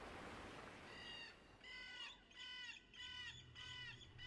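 A white bird gives a high, ringing cry in the fantasy game Lost Odyssey. The cry comes as a series of five or so clear, tonal calls at an even rhythm, fairly faint over soft background wash.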